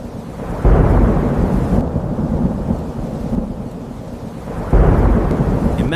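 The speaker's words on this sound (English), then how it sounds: "Imagine you're sitting inside your home during a thunderstorm." A thunderstorm: loud, close rumbling thunder rolls in two surges over a steady roar of heavy rain.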